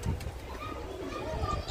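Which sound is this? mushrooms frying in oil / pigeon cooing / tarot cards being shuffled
pigeon cooing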